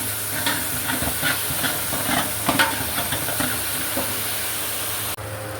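Green chillies frying in ginger garlic paste for a Malabar chicken kurma, giving a steady soft sizzle and hiss with faint stirring scrapes, close by and unbroken, with no talk.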